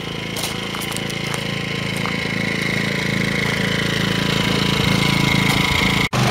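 A portable generator idles steadily at about 15 feet, a continuous engine drone with a constant hum and no speech.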